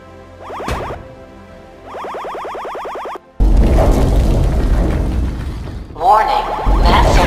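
A magnetic gun in the VR game MagnetE fires repeated sweeping electronic zaps, followed by a loud, crashing, broadband blast that rumbles on.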